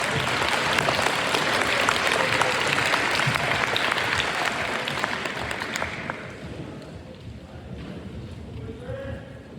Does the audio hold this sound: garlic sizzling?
no